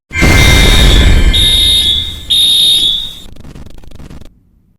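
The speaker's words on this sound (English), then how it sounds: "someone decided to pull the fire alarm" A school fire alarm blares loudly and close, a harsh electronic buzzing tone with shrill bursts pulsing on and off, then cutting out with a brief tail of fading room noise.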